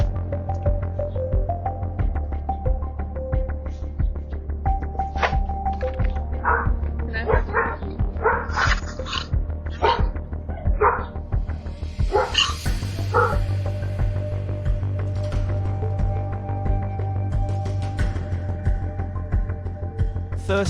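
A dog barks repeatedly at a doorstep in Seattle while a man with a large white truck lingers nearby, the barking loud and persistent over steady background noise.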